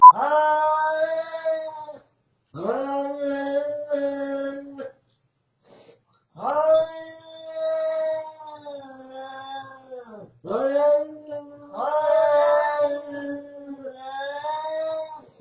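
Two cats trade long, drawn-out yowls, wavering and moaning, in several separate bouts with short pauses between, close and clear.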